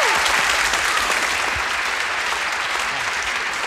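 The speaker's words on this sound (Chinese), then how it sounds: "来，掌声鼓励鼓励啊！" A studio audience at a Taiwanese variety show breaks into loud, sustained applause, a dense wash of clapping that stays steady and close for several seconds.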